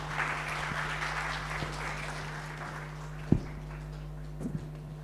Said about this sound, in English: Can we have once more huge round of applause for all of them who just joined us on stage?